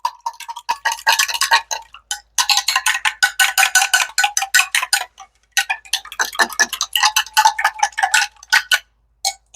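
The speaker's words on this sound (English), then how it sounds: "Mix all the spices into the water." A spoon clinks rapidly and rhythmically against a bowl or cup while spices are stirred into water for a deer jerky marinade, the close, bright taps coming in quick runs broken by short pauses.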